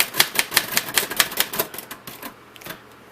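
A 1940s Royal Quiet DeLuxe typewriter clacks in a quick, even run of about a dozen sharp key strikes close up, slowing to a few sparser taps at the end; the ratcheting mechanism is gummed up, with no talk.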